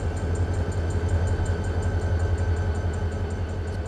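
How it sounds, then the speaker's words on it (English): A low, steady train engine rumble in the Run 8 Train Simulator game drones on with a faint rhythmic clatter, like a locomotive idling or pulling slowly, with no voices. "Listen to that engine, huh? Beautiful."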